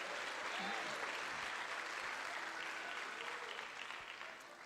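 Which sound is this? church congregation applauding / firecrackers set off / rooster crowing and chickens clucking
church congregation applauding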